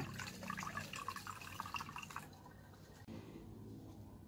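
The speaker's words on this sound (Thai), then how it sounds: "เวลาเทน้ำชาลงขวดนะ จะต้องใช้ถุงกองชานะคะ จะได้ไม่มีกากชานะ เทลงขวดไปเลยค่ะ" Dragon fruit tea poured through a tea filter bag into a bottle, a close trickling, splashing stream that runs steadily, then drops to a quieter drip and gurgle.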